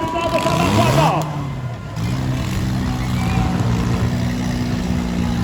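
A demolition derby car engine revs hard at an outdoor derby in Saint-Victor, its loud, steady roar filling the whole stretch while an announcer talks over it.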